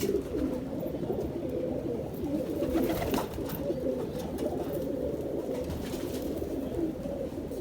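Soft, low pigeon cooing murmurs continuously, several birds overlapping in a steady, close burble with a faint hiss of background noise.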